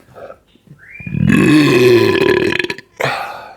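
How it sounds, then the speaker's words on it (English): A long, loud, drawn-out burp after drinking IPA beer rumbles for over a second, followed by a brief second belch after a short pause. "There's the burp."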